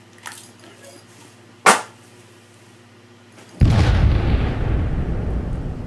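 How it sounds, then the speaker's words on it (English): Frag grenade exploding in the Halo 5 video game, with a sharp pop, then a heavy rumbling blast that fades out slowly. "we gotta use drastic measures. As in, frag grenade."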